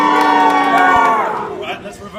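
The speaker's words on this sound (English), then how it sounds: "I'm going to have one side of the audience scream and cheer as loud as they possibly can." One side of a theatre audience screams and cheers as loudly as it can, a dense burst of shouting voices that swells briefly and then fades.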